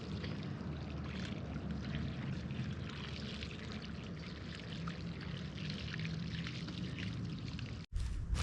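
Water pours steadily onto soil around a newly planted fruit tree in a continuous, splashing flow, close and fairly loud, briefly cutting off near the end before resuming.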